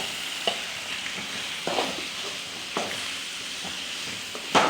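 Sardine curry masala with turmeric being stirred and fried in a pan, a soft continuous sizzle broken by several close scraping stirs at irregular intervals, no voices.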